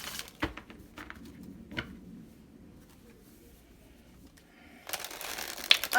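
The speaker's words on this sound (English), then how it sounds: "One more shuffle." Tarot cards are shuffled close by during a card reading, giving soft riffling and papery taps scattered through a quiet stretch, with a brisker, louder flurry near the end.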